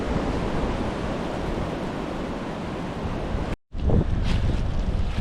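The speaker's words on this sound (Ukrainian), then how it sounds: "Вітер сьогодні добрий." Loud, blustery spring wind roars across the microphone in a birch wood, rumbling steadily with a brief cutout before the gusts resume.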